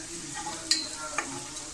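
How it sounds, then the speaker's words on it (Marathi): Masala and turmeric sauté in a pan with a continuous soft sizzle, broken by two brief clinks of a spoon against the metal, close and alone without speech. "थोडी हळद टाकूया आणि आपल्याला हे व्यवस्थित असं परतून घ्यायचं आहे"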